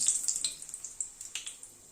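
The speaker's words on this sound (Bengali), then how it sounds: "গ্যাসের ফ্লেমটাকে একদম কমিয়ে মেথিটাকে ভালো করে ক্র্যাক করিয়ে নেব" Fenugreek seeds crackle in hot oil over a lowered flame, a quick run of small sharp pops and spits that thin out over two seconds, fairly close and with no talk.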